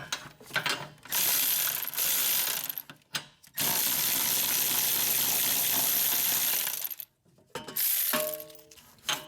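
A hand ratchet clicks steadily as it spins out the rear wheel bearing bolts on a Honda CR-V. The bursts of fast pawl clicking are separated by short gaps, and near the end a bolt clinks against metal.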